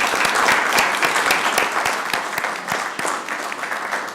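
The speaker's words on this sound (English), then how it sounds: "Let's give them another round of applause, folks." A round of applause fills a Columbus, Georgia city council meeting, steady dense clapping from the audience at close range, holding loudly throughout.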